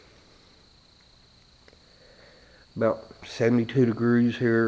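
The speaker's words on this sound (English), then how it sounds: "Hear the crickets chirping." Crickets at night outdoors in Appalachia keep up a steady, thin high trill throughout, with a voice starting partway through and talking over it.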